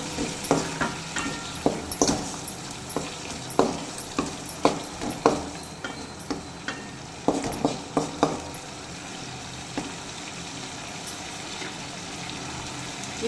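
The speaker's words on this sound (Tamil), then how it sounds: "லெமனை புழிஞ்சு விட்டு நல்லா கிளறிக்கலாம்" A spoon scrapes and knocks through lemon rice in a pan in a steady run of sharp clinks and scrapes, close and clear, with a light sizzle underneath before the strokes slow and stop.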